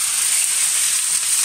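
Pork loin being seared in a hot pan, heard as a loud, close, unbroken hiss of sizzling that stays constant with no voices.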